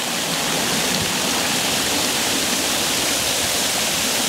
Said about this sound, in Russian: Вот сейчас, видишь, он наливается в чашу, а потом с нее должен излишек, во, выливается, видишь?